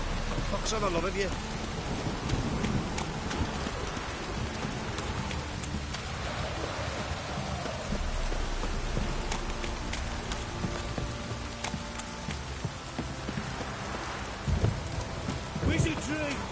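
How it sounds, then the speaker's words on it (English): Heavy rain pours down in The Witcher 3 video game, a steady close hiss of a downpour with faint rumbles of thunder, while voices occasionally speak over it. "If it don't stop raining, my arse will rot off. This downpour's a bastard, it is."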